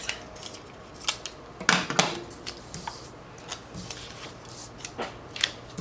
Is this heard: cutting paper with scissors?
yes